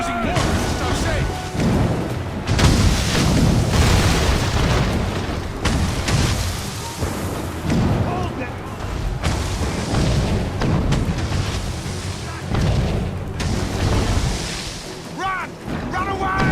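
Mortar fire in Assassin's Creed Rogue during a naval battle at sea, with heavy booming explosions rolling over one another almost continuously amid loud wave and ship noise and voices.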